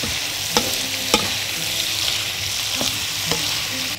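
Potatoes and vegetables seasoned with salt and pepper are stirred in a sizzling frying pan, a steady fry hiss broken by several sharp utensil scrapes and clacks against the pan, close and alone.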